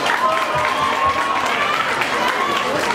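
An audience applauds at a launch event for a Thai drama series: a dense, steady wash of clapping with crowd noise and voices mixed in throughout.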